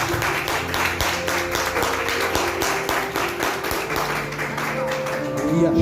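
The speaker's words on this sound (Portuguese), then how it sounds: "E as palmas ao Senhor Jesus." A church congregation claps in praise in a fairly steady, rhythmic pattern, mixed with organ or keyboard tones and other voices, and the sound swells near the end.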